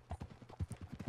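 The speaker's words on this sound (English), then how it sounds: "next you are mounted on your horse" Horse hooves clip-clopping in Red Dead Redemption 2, a steady, even walking rhythm of soft thuds heard up close.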